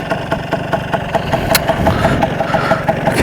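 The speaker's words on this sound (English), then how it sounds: "This is a Stella scooter 150." A Stella 150 two-stroke scooter, nearly stock but fitted with a SITO aftermarket exhaust and a reed valve, idles steadily close by with an even, unbroken engine note and no talk over it.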